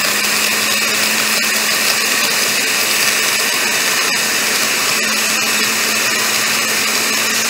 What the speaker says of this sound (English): I'm going to go ahead and just put the blender up here